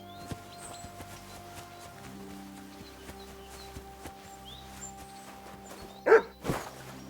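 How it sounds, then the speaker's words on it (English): A dog barks twice in quick succession near the end in a video game, after several seconds of quiet background hum and faint scattered noises. "Barking."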